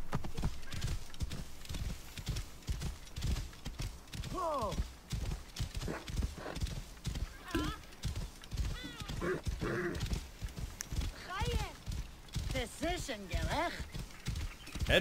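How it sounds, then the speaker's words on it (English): A horse in the Assassin's Creed Origins video game trots with steady, close clip-clopping hooves and occasional whinnies, while voices talk over the gameplay. "Got a horse now."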